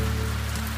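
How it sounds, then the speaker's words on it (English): Steady rain falls outdoors at a remote rural property, a continuous even hiss of drops on surfaces with a low constant hum beneath, no voices present. "it is raining down here. It still sounds nice."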